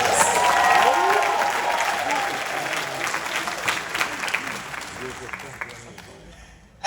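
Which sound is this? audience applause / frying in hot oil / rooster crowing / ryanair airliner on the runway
audience applause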